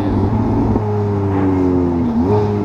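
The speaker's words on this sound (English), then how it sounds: "Listen to those downshifts." A Ferrari F430 Spyder with a catless exhaust rumbles steadily from close by, a loud continuous engine drone whose pitch slides down and then steps back up, suggesting downshifts, with no talking.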